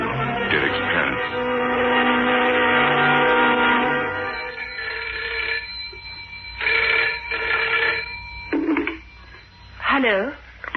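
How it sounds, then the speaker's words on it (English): A telephone rings in repeated electronic bursts with pauses between them, loud and close, and a voice is heard as well. "The next morning, I made a phone call to Derek's parents."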